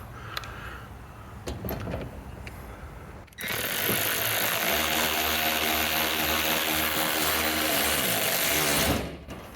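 A power tool drives a 7mm socket to tighten bolts securing black plastic to an aluminium sheet under a C8 Corvette. After a few quiet clicks, a loud, close, continuous whir runs for about five seconds, then stops.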